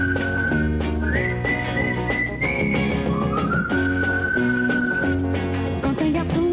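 Someone whistles a short melodic tune as a call between friends, clear and close, with sliding pitched notes over a busy musical background.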